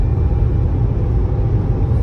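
BMW 1 Series cruising on a German autobahn, heard from the cabin: a constant loud low rumble of engine, tyres and wind, steady and unbroken, with no voices.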